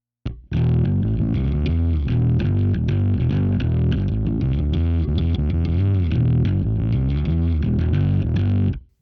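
Bass guitar run through the 'grit' preset of a Line 6 POD Express pedal, giving a driven, slightly distorted tone; a continuous run of notes, loud and close, stopping abruptly near the end.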